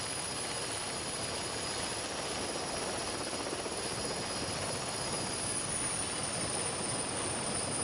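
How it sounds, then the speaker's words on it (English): A constant, dense mechanical roar with a whining high hum from a helicopter flying overhead, rotors and engine running steadily, with no voices. "The event helicopter,"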